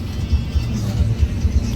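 Steady low engine rumble of a front-engine Hino AK bus heard from inside while riding between Blitar and Malang, with soft thumps and a faint voice over the drone.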